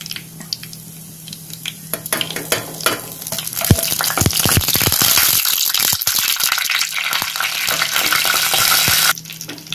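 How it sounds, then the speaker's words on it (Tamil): Fenugreek and cumin seeds sizzling and crackling in hot oil after mustard seeds for a village-style Tamil fish curry, with clattering stirring; the frying rises to a loud, steady hiss before stopping abruptly near the end. "இப்போ வந்து வெந்தயம் போட்டுக்கலாம். அடுத்து ஜீரகம் சேர்த்துக்கலாம்."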